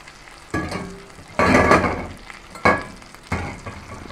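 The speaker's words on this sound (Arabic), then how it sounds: "وادي اهو بعد ما شوحت البصله بالشكل ده هنزل بالكلاوي بتاعتي، نقلبهم" Kidneys tossed with a spoon in a pan over sautéed onion, sizzling in short bursts with scraping stir strokes, close and fairly loud with no talk.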